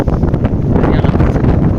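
Strong wind gusts buffet the microphone outdoors in steady, loud broadband roaring that fills the whole stretch without letup.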